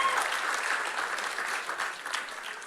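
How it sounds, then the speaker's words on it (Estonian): A congregation at a church summer camp's opening service gives a brief round of applause for a member's jubilee birthday. The clapping is dense and steady, filling the room throughout. "Veel üks väike aplaus Markile."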